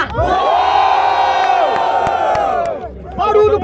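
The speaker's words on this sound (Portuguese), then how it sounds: "Barulho pro Smile e pro Mota!" A crowd at a Brazilian rap battle roars, cheering and shouting together in one loud, sustained wave close by, fading briefly before the cheering surges again.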